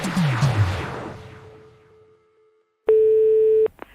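A telephone line tone sounds while a call is placed, with a steady electronic beep that cuts off, then a short second beep, preceded by a fading noise.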